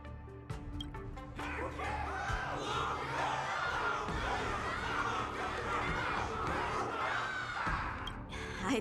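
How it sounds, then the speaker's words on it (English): A crowd in the Honkai Star Rail game roars and cheers for Luocha, a dense, sustained wash of many voices with scattered shouts and a few sharp impacts at the start. "Everyone's cheering for you, Luca."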